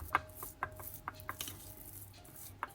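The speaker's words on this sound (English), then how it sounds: "I cut some diced dark chocolate unsweetened and mixed to the cookie butter" Knife chopping unsweetened dark chocolate on a board while making eggless cookies, a series of quiet, irregular close taps and cuts with short pauses between them.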